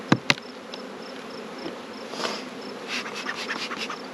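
Honeybees buzzing at an open beehive during an inspection; a steady, moderately close hum of many bees runs throughout, with a couple of sharp scratchy clicks at the start and light handling noises.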